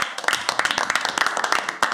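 A small group claps during a comedic company presentation, a quick scatter of light, close handclaps for about two seconds without words.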